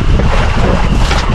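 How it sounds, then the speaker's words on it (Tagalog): Strong wind roars at sea aboard a boat, a loud continuous broadband rush buffeting the microphone, with no voices. "Yan o, gabagyo na naman ang hangin."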